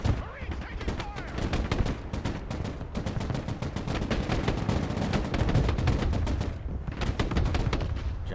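Gunfire from the Broken Arrow video game crackles steadily throughout. Rapid, dense bursts of automatic fire and overlapping shots form a continuous loud fusillade.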